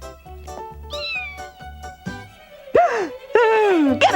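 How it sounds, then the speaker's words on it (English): A cat meows several times in a kitchen, giving loud, drawn-out wailing cries near the end, over quiet rhythmic background music. "Ain't no cats allowed in the kitchen!"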